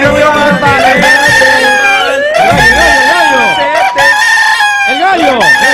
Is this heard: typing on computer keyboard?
no